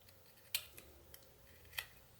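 A whittling knife notches and cuts into wood while carving a small owl, giving a few sharp, quiet snicks and clicks spaced irregularly over a hushed background.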